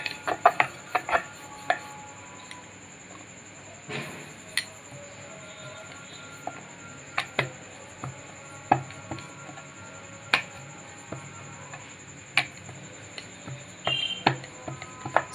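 A rolling pin works coriander paratha dough on a flat board with a light dusting of flour, making irregular sharp taps and knocks against a quiet room with a faint steady high whine.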